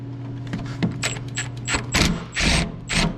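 A ratchet wrench working a 15 mm bump stop bolt on a 2001–2010 GM/GMC 2500HD/3500HD truck, a few close, loud bursts of metallic clicking and grinding with short pauses between them.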